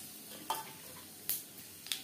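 Five whole spices hitting hot oil in a kadai for tempering, a soft, quiet sizzle punctuated by a few sharp utensil taps and stirring clicks, close and faint.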